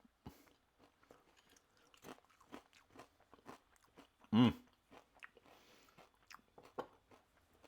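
Crispy, charred salmon skin from a plum-glazed salmon fillet being chewed up close, sparse crunches and soft bites with one sharp loud crack midway.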